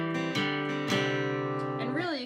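An acoustic guitar plays a melodic figure, using hammer-ons and pull-offs, with plucked notes ringing and sustaining clearly over a few seconds, close and alone.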